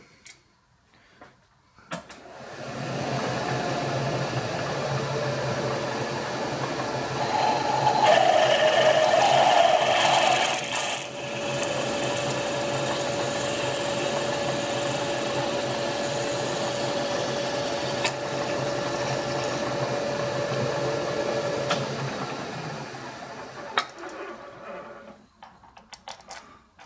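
A machine drill with a 9.5mm bit runs steadily for over twenty seconds, a continuous mechanical whine and hum that rises in pitch midway as it bites into metal, then spins down.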